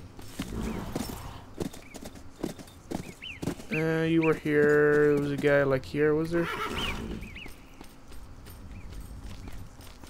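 A horse in the western game Call of Juarez: Bound in Blood clip-clops with close hoof steps and gives a long, loud whinny in the middle, while someone talks over parts of it.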